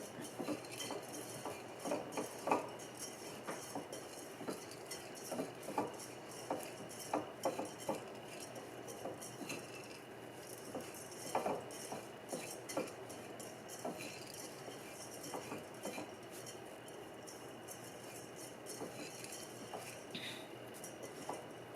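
Fresh khao mao, pounded young rice from Udon Thani, being tossed and mixed with sugar in a bowl, with soft repeated clinks and scrapes of a utensil against dishware, quiet and close, with no talking.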